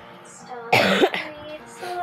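A single harsh cough bursts out near the microphone, with faint voices before and after it.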